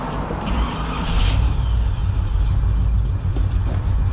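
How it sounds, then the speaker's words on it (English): A 1972 Chevrolet Chevelle convertible cruises with a steady low engine drone and continuous rushing wind noise, loud and close throughout, with no talking. "I'm sure you're going to get a lot of wind noise, but it's probably better to hear the car than me talk anyway"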